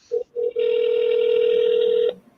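A telephone ringback tone sounds on an outgoing call. Two short tonal beeps are followed by one long, loud, steady tone of about a second and a half that then cuts off. No one speaks.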